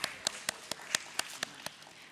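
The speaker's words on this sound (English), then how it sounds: "Let's have an applause," Audience clapping at a BSE stock exchange listing ceremony, about nine sharp, evenly spaced claps over two seconds, fairly faint and sparse, like a small crowd beginning a round of applause.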